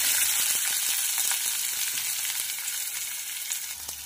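Sliced onion and a green chili sizzle steadily in about three spoons of hot oil with cumin seeds, a dense bright crackle with soft stirring ticks, close and alone.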